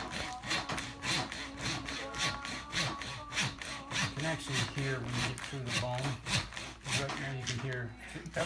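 Saw cutting through pig bone and flesh during home butchering, heard as a steady close rasping back-and-forth stroke rhythm, loud and continuous, turning softer and less sharp near the end.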